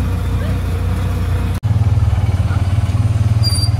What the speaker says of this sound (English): Got a little bit of an exhaust problem back here.